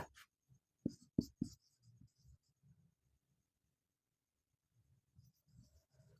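Marker or chalk writing on a board during a Bengali-medium English grammar lesson, quiet scratchy strokes in short bursts with a few sharper taps, then a pause before more faint writing sounds.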